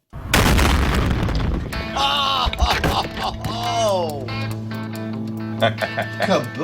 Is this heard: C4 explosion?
yes